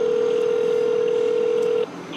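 A telephone call being placed to a city shelter support and housing line: a single steady tone holds for nearly two seconds, then cuts off, with faint line hiss underneath and no voices.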